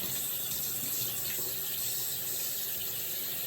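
Tap water running steadily into a sink for handwashing, a loud, constant close-up rush of water with no talking.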